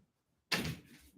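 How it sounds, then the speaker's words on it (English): A door being shut indoors, one quick solid thud after silence, close and fairly loud, with a short rattle as it settles. "I'm shutting that door."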